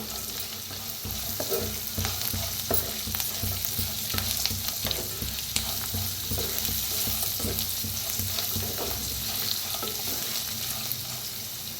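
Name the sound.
mixing and frying onion with turmeric in a pan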